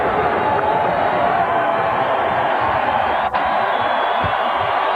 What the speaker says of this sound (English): Well, the crowd up and cheering now.